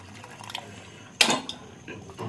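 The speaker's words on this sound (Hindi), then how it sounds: "तो ये देखिए हम लोग डाल रहे हैं गर्म पानी दोस्तों" Hot water poured into a pot of mutton curry, a sudden splashing gush followed by brief bubbling and clinks of the pot and utensils, close by and without speech.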